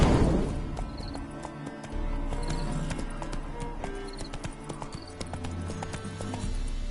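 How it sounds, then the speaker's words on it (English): Roach, a horse in The Witcher 3 video game, gallops with a steady rapid clip-clop of hooves, close and prominent, with a faint whinny mixed in and game effects around it. "Spooking my horse."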